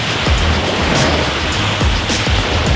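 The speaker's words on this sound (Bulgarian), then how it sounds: "Това, което следва е да се добави малко вода към тахана." Water poured into tahini for vegan tarator, a steady, close, rushing stream of liquid running without a break.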